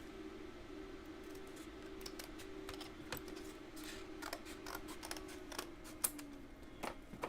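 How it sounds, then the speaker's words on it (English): Scissors snipping small pieces of cardboard, with sparse, faint, irregular clicks and crisp cuts close by over a steady low hum. "just cut the small pieces of cardboard down to size"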